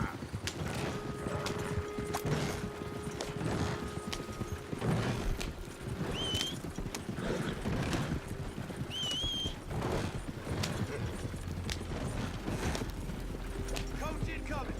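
Horse hooves clip-clop in the video game Red Dead Redemption 2, a soft irregular patter under game music, ambient noise and a voice, with a few brief whinny-like calls.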